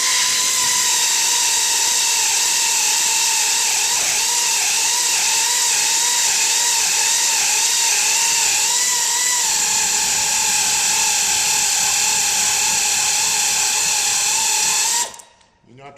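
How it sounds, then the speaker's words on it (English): An air ratchet wrench whines loud and continuously for about fifteen seconds as it drives a thread repair tap into a spark plug hole on a 6.8-liter V10, then cuts off abruptly. "a good ratchet wrench works good to work it in because it takes a minute to grind through these old threads"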